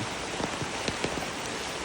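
Steady heavy rain falling at a Thai temple, a continuous close hiss with a few louder individual drops.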